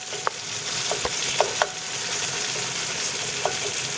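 Chili paste with yellow mystus fish frying in a pan, a steady soft sizzle with a few scattered clinks and taps of a utensil stirring, fairly quiet and with no talk.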